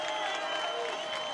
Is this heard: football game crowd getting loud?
yes